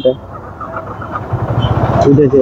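A Yamaha R15 V3 motorcycle engine, overheated, cranks and catches, building into a rough rumbling idle up close, with a voice briefly heard over it.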